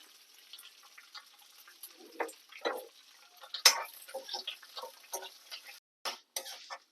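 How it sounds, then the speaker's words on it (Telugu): Spices tempering in hot oil for a ginger and green chilli chutney, giving scattered pops and crackles over a low sizzle, some louder bursts rising now and then at moderate volume. "తాలింపు"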